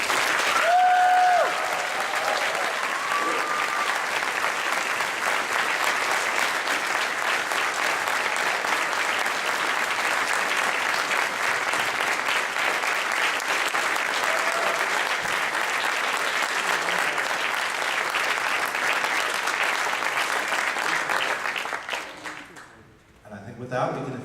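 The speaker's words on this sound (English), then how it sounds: "I'd like one more very large round of applause for our awesome staff" A furry convention crowd at the Rainfurrest 2011 closing ceremony gives the staff long, loud, sustained applause with scattered cheers, holding steady for over twenty seconds before dropping off sharply at the end.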